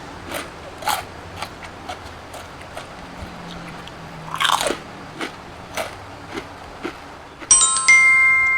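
Close, sharp crunches of someone biting and chewing crispy Thai pork rind with fat attached, a series of brief crackling bites spaced through the clip, ending with a short electronic chime.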